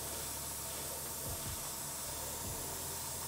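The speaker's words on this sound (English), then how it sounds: "Do a little test spray off to the side." An airbrush spraying a light test burst of white paint to the side during zenithal priming, a steady broad hiss throughout with faint low thumps, close and fairly quiet.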